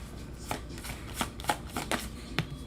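Tarot cards are shuffled by hand, a close, quick series of soft riffling flutters and papery slaps in an irregular rhythm, with no one talking.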